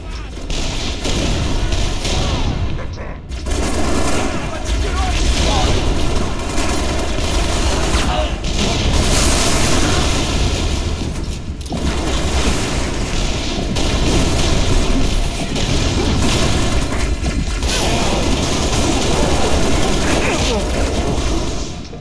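A Halo Reach firefight rages with dense, continuous gunfire, loud bursts, booming explosions and mechanical clatter. Shouted voices come through the combat now and then.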